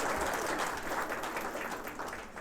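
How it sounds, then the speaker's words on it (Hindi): Students at a school session organised by an educational society in Rohru clap together in a steady, dense round of applause, sustained and fairly loud throughout. "तो फिर ताली बजाओ ना आप लोग।"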